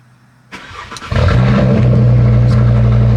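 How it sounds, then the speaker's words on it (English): An Audi RS3 with a nearly straight-piped exhaust cold starts early in the morning: starter cranking, then the engine catches and settles into a loud, steady rumbling idle close by. "I'm cold starting this almost straight piped RS3 at 5:50 in the morning."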